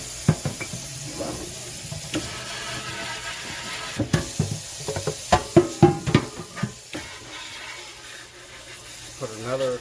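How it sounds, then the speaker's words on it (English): An Allis Chalmers tractor gas tank being rinsed off with running water, a steady spraying hiss broken by a series of sharp splashing bursts as the stream hits the metal. "Let's rinse this thing off real good."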